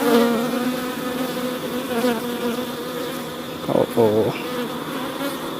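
Honeybees swarm and buzz loudly and close around a hive at a beekeeping check in Jamaica, a dense continuous drone with individual bees passing nearby, and a brief exclamation from a person partway through.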